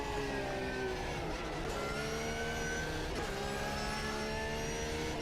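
Race car engine in the sim racing game Automobilista 2, droning loudly and steadily at high revs, its pitch rising and dipping through gear changes with no one talking over it.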